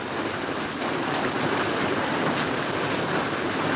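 Heavy rain falls in Maharajpur in a loud, unbroken roar of drops, constant and close for the whole stretch, with nothing else audible.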